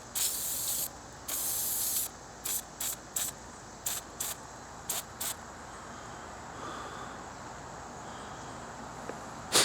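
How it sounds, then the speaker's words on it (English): Prolong lubricant sprayed in short bursts onto vintage baitcast reel parts, two longer hisses followed by a string of quick spritzes, close and fairly loud, then a quiet stretch. "Now I'm going to spray it down with this Prolong and then blow dry it off a little bit."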